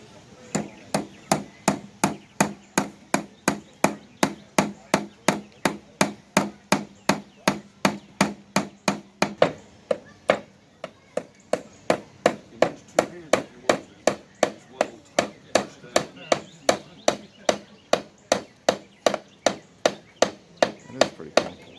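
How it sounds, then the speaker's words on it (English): A hammer strikes wood in a fast, steady series of sharp knocks outdoors at a park nature day for kids, dozens of evenly spaced blows with a brief pause midway, close and loud. "Take a hammer now."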